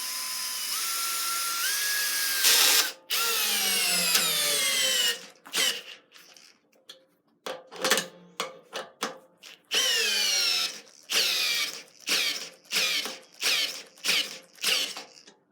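A Makita 12V CXT FD07 brushless cordless drill with a 2.0 battery whirs in long straining bursts driving a 3/8 by 3.5 inch lag screw, then short repeated pulses as it grinds against resistance, close and clear with no talking.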